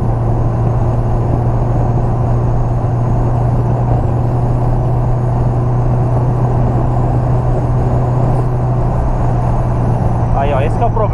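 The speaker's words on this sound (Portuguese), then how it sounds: "Olha o barulho do vento passando pelos vidros" Wind rushes past the windows of a boxy VW Gol with a carburetor engine, cruising fast on a Brazilian highway. A steady, loud broadband roar with a low engine drone underneath continues unbroken throughout.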